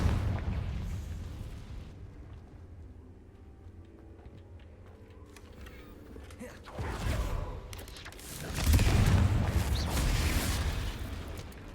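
A Confringo spell explosion in the video game Hogwarts Legacy, a rumbling burst followed by a second, louder boom with debris-like crackle, set against a low game ambience.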